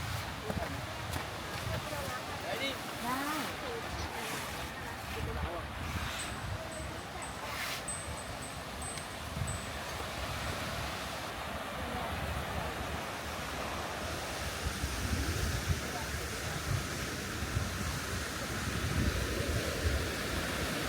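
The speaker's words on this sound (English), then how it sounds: "So now I'm right at the beach" Beach ambience at Hua Hin Beach, Thailand: steady broadband surf wash with wind buffeting the microphone, continuous and fairly loud throughout.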